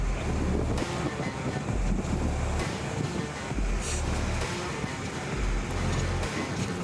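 Steady, loud engine drone of the Maria Dolores ferry crossing the strait from Tarifa to Tangier, a low rumbling hum that runs throughout with wind buffeting over it and no talking.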